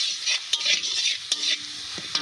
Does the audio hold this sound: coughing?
no